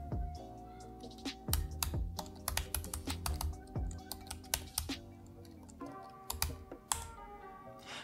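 Fingers type a terminal command on a Mac computer keyboard, producing a rapid, uneven run of crisp clicks and taps close by, with brief pauses between bursts of keystrokes.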